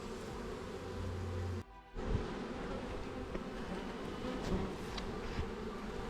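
Honeybees buzz around an open beehive while a beekeeper searches the frames for the queen, a steady close insect drone running throughout, broken by one short handling thump early on.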